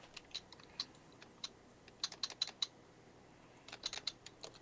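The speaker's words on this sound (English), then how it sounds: "You're just beating their keyboard like it owes them money" Someone typing hard on a computer keyboard, irregular bursts of sharp, clacking keystrokes in quick clusters, faint and close with nobody speaking.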